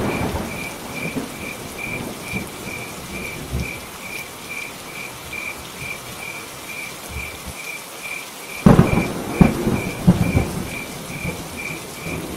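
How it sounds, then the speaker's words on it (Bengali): Steady heavy rain with a constant chirping insect layer runs throughout, then a rumble of thunder bursts in near the end, loud and close, no voices. "কি বৃষ্টি বলো তো, এ তো থামতেই চাইছে না।"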